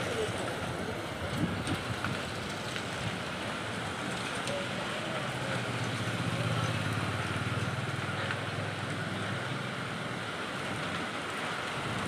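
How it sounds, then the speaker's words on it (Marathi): Heavy rain with big drops pouring down during a windy hailstorm, a dense steady hiss of drops on surfaces holding evenly throughout, no one speaking. "आता भरपूर मोठे मोठे थेंब यायला लागलेत।"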